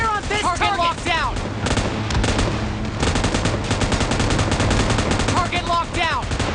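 Loud, close bursts of automatic gunfire in PUBG Mobile, rapid rattling volleys with short gaps between them, while a voice speaks at the start and again near the end.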